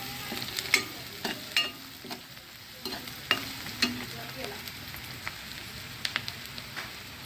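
Onion, curry leaves and coriander frying in hot oil, a soft continuous sizzle broken by occasional clicks and scrapes of a stirring spoon against the pan, close and moderately quiet with no voices.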